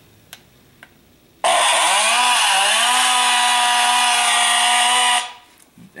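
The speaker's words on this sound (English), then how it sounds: "It was typical chainsaw design, standard chainsaw shape on a gun stock with a Fox motor on it." Haunted-house prop chainsaw built on a gun stock with a Fox motor and added sound effects, roaring loudly and steadily for about four seconds after a quiet start, its pitch rising briefly before holding a constant buzzing drone, then cutting off.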